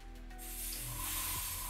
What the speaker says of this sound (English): So we'll spray that and see what it looks like